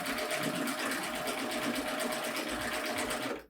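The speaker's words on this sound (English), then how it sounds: "as I start stitching, I'm going to be able to just feed it in a tube" A Baby Lock Euphoria serger runs steadily as fabric is fed through it in a tube, its rapid, even whirring stitching sound continuing loudly and without pause before stopping abruptly at the end.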